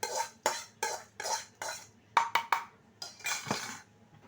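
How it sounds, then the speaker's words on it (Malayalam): Fried mustard seed tempering tipped into a pot of pumpkin erissery with drumstick leaves, giving a run of repeated clattering scrapes and clinks of a spoon against the pot, close and moderately loud, with no talking. "നമുക്ക് നമ്മുടെ കടുക് വറുത്തത് ഇതിനകത്തോട്ട് ഇട്ട് കൊടുക്കാം."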